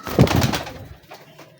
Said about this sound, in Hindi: ये देखें माशाल्लाह बड़ा तगड़ा कबूतर है